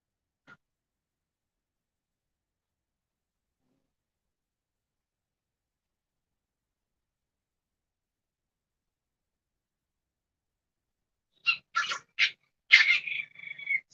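Young puppies let out a quick cluster of high, squeaky whimpers and yips near the end of a long stretch of near silence, with one tiny faint squeak early on.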